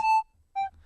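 Two short synth notes from a bass patch on the Harmor synthesizer, each a bright sustained buzzy tone with a clear pitch, separated by a brief gap, heard alone.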